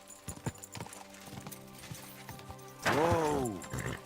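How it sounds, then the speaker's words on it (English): Horse hooves clip-clop in the fantasy video game Avowed, a steady run of hoofbeats mixed with game music, ending in a loud whinny near the end. "She didn't like me riding in on a horse."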